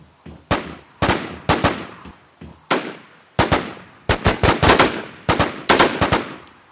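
Gunfire from the War Z video game crackles in rapid bursts and single sharp shots, loud and close, spaced irregularly across the stretch with short gaps between volleys.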